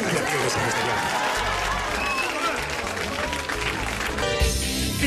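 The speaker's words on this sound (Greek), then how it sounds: "Ένα χειροκρότημα και για τα παιδιά δεν είμαι μόνος μου" An audience at a Greek live music show applauds the band with dense, sustained clapping and crowd noise. It stays loud and steady throughout, and a rhythmic, music-like pulse enters near the end.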